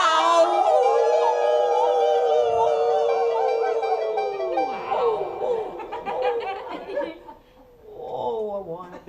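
Several voices in a kitchen band song mimic a dog's long, wavering howl, rising and falling together, then break into laughter and chuckling as the howl trails off.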